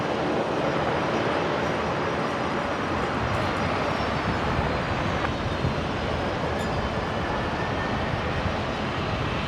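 A Qantas Boeing 737 departs runway 19 left at Brisbane airport bound for Melbourne, its engines a loud, continuous broadband roar that holds steady throughout with no voices.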